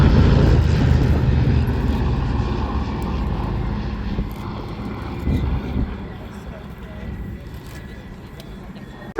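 A piston warbird propeller aircraft roars loudly overhead at an airshow, its deep engine drone slowly fading as it passes by.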